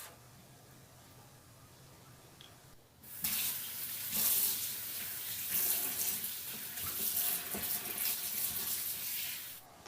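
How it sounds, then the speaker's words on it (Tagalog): Kitchen tap running while squid is washed, a quiet hiss that swells into a steady, close splashing stream over the sink after a few seconds. "Pagkatapos nito ay hugasan ng maigi."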